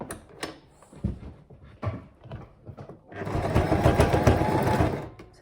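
A sewing machine stitches the sides of a fabric mask, first in a few short bursts with light handling noise, then running steadily and loudly close by for the last couple of seconds.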